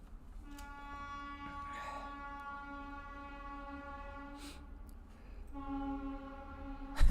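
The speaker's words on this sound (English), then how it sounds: "That's an Indian train." An Indian train passes and sounds its horn in long, drawn-out tonal blasts, one early and another near the end, over a low rumbling background.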